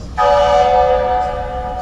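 A theatre pipe organ imitates an approaching train, sounding a sustained, chord-like whistle tone that swells in suddenly and holds steady and loud before slowly easing off, with no talking.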